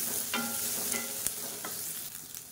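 Spices with a small piece of tamarind sauté in oil in a pan for bajra idli, a soft steady sizzle with a few light spoon scrapes and taps, close by and brief, no talk.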